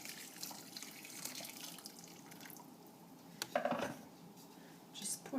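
Boiling water pours over glass noodles in a deep bowl, a faint, low splashing and trickling with a few brief louder sloshes near the end.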